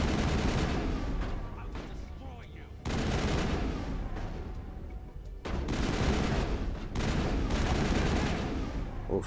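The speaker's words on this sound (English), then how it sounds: "Some long distance shooting" Sustained bursts of gunfire from a Mass Effect firefight, heavy and continuous with two short lulls, crackling rapid shots layered over a dense rumble throughout.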